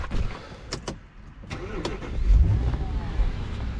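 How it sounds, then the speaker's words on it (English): An Audi A6 Allroad 4.2 FSI engine cranks with a few sharp clicks, then catches and settles into a low, steady idle rumble up close. "Now let's start the car up in order to depressurize the fuel system."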